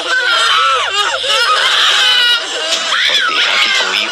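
Frightened children scream in loud, high, wavering wails that overlap almost without pause, with a brief dip midway before the shrieking rises again.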